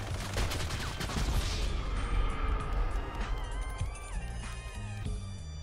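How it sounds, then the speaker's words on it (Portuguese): Rapid bursts of gunfire crackle in GTA Online near the houses of Paleto Bay, dense and loud at first, then thinning into scattered shots over a droning vehicle engine and game tones. "Mano, é sério que você vai começar a atirar aqui mesmo?"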